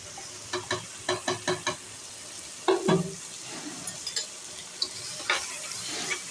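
Spice masala for chicken curry being stirred and fried in a pan: a run of scraping stirs with a low sizzle underneath, then a louder clatter and a few scattered scrapes.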